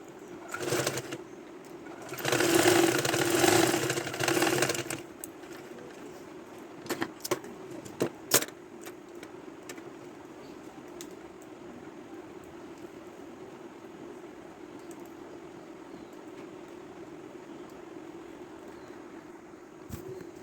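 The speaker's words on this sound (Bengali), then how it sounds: "তো সেটাকে আমি লাইলিন দিয়ে সেলাই করব।" A sewing machine runs in a steady, mid-level whir while stitching the hook section at the back of a princess-cut blouse, joined by a louder, denser burst early on and scattered sharp clicks.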